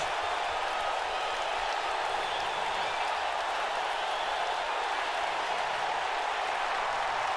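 Arena crowd applause and cheering from the WWE 2K19 wrestling video game, a dense steady roar of clapping that holds evenly throughout with no gaps or talk.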